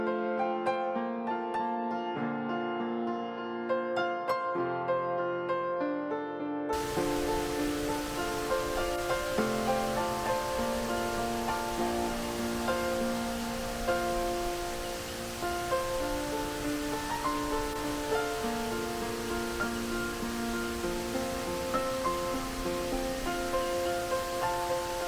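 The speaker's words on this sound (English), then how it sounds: "Off in the distance is Little Clifty Falls, which drops 60 feet into the canyon creek" Little Clifty Falls drops 60 feet into a forested canyon creek, giving a steady broadband rush of falling water. The wash sets in after a quiet musical opening, and music continues over it throughout.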